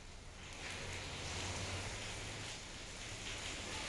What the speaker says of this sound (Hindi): तो देर रात से लगातार बारिश होती रही प्रयागराज में